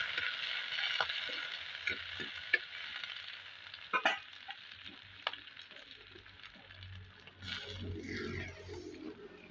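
Fish sizzling steadily in a pan of hot oil, a constant hiss with occasional stirring scrapes and small clinks, close and fairly quiet with no talk.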